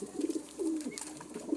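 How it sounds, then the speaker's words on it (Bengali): Pigeons in a home aviary of mixed birds coo softly several times in short, throaty bursts, fairly close and without speech. "তারপর এই যে কবুতর দেখেন গাইস"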